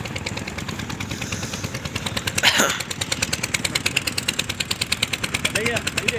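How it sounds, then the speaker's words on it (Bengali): A boat's engine approaches on a river at Nikhli, Kishoreganj, a steady rapid chugging pulse that stays loud and near, with brief voices and a passing swell of noise partway through. "এই যে নৌকা আইতেছে নৌকা"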